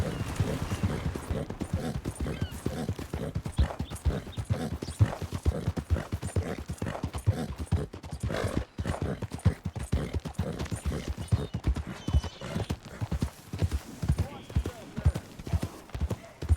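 Hooves of a horse in Red Dead Redemption 2 clip-clop in a steady, quick rhythm throughout, close by, with a voice talking over them partway through.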